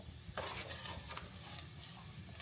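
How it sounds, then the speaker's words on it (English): Pumpkin and carrot slices cooking down in a pot, giving a steady close sizzle with stirring scrapes and occasional utensil clinks throughout, no talk. "It's gonna take a while for those vegetables to cook down."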